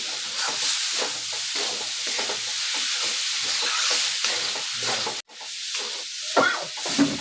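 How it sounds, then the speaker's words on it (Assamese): Chilies sizzling in hot oil for dry fish chutney, a continuous crackling hiss with occasional stirring scrapes and a brief dropout near the end. "এতিয়া জলকীয়া অলপমান ভাজি ল'ব লাগিব।"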